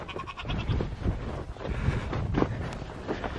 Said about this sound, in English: You scaring the goats, Pluto